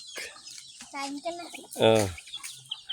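Chickens being fed cluck and squawk close by, with one louder drawn-out call in the middle, amid scattered short bird noises.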